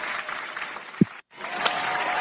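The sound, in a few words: round of applause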